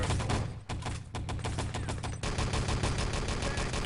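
Rapid automatic gunfire from the video game Wolfenstein: Enemy Territory in a 6-on-6 LAN tournament match, dense overlapping bursts close and loud, briefly pausing before resuming in a continuous stream.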